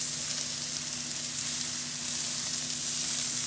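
A garlic and onion burger patty sizzles steadily in a hot pan as it is basted, a close, constant hiss of frying fat with no speech.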